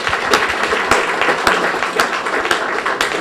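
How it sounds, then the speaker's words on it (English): A small crowd gives a round of applause at a community gathering in a market place, uneven clapping with distinct sharp claps standing out, close and moderately loud, no talk over it. "let's give Kotali Mar and Carlos a big round of applause for opening up the doors to us"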